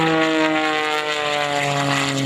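Skip Stewart's aerobatic propeller airplane flying at the 2011 Battle Creek Airshow, a loud steady engine drone with strong harmonic buzz passing close overhead, heard alone.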